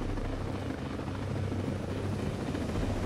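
In the video game Ghost Recon Breakpoint, a helicopter's rotor and engine make a steady, loud, unbroken roar and thrum with no voices over it.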